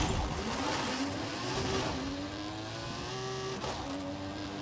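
A car engine revving hard on a drag launch in Forza Horizon 5, a loud climbing engine whine that rises through the gears and holds steady, close and alone.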